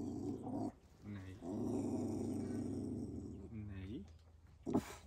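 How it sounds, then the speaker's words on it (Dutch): A big dog growls in long, low rumbling stretches broken by short gaps, close and fairly quiet, ending with a brief sharper sound. "Een hele grote hond."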